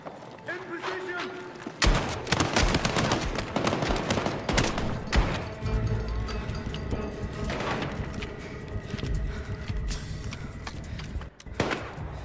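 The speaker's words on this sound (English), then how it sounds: "Blow some holes in those walls using that launcher" Loud, dense bursts of gunfire and heavy thumping launcher explosions from a military shooter game campaign, sustained and chaotic with shouted voices mixed in.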